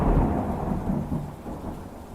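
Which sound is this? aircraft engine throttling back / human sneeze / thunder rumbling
thunder rumbling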